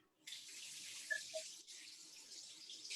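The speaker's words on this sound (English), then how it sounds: "I'm gonna wash my hands real quick." A kitchen tap starts running for a hand wash, a soft, steady stream of water splashing into a sink that begins abruptly and continues evenly.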